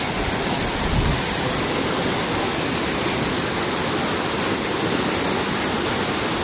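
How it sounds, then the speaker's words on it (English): Rushing river water flows steadily during a walk downstream, a loud, continuous broadband roar that stays even throughout with no voices. "the river is making all that noise."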